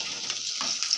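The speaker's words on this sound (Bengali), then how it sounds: "দেখুন, লাল লাল করে আলু ভাজছি ডিমের ঝোলের।" Potato pieces frying in oil until reddish-brown, cooked as a base for egg curry, give a brief, steady high sizzle with faint crackles, close and even throughout.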